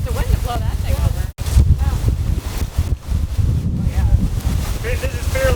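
Strong hurricane gusts from Idalia buffet the microphone at a marina in Islamorada, a loud rumbling roar with brief dropouts, while a voice talks over the wind.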